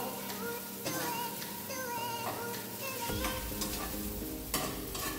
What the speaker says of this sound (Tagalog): Kailangan patutong-tutuin natin ang bawang at sibuyas.